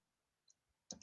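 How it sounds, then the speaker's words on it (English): Computer keyboard typing: a couple of faint taps midway, then a short burst of sharper, louder key clicks at the end, in an otherwise quiet room. "I'm typing on my computer."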